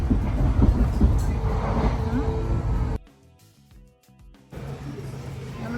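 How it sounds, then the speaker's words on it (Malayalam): A train pulls into Paddington station in London with a loud, broad rumble. The noise dips sharply for a moment midway, then the heavy rolling roar returns. "ട്രെയിൻ വരുന്നു."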